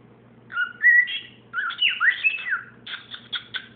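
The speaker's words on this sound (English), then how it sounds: "What a pretty bird." A pet bird whistles and chirps up close in a few quick bursts of bright warbling phrases and short tweets, with no voices over them.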